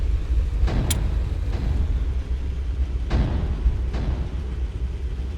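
Tank engine in the game Sprocket droning steadily at low pitch, with brief gear-shift transients and slight rises in revs every second or two, nearby and continuous.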